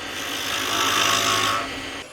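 A wooden limb for a gnome ornament spins on a lathe while its tenoned end is smoothed, giving a steady close rasping scrape that holds for about two seconds, then eases off.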